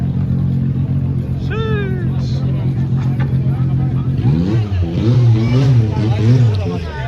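FL2K drag race cars launching and revving at the strip, engines roaring loud and close over a steady rumble, with a rising rev sweep and crowd chatter throughout.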